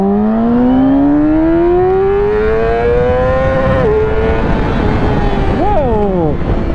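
A 2015 Yamaha R6 sport motorcycle engine revs hard at high rpm, a rising harmonic wail climbing steadily, then dropping briefly before quick sharp blips near the end, loud and close.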